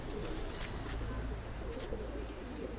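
Adana native pigeons, a paired hazel-headed couple, coo softly against a busy outdoor background, with a few faint chirps scattered over a low, fairly quiet murmur.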